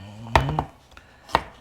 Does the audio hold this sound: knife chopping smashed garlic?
yes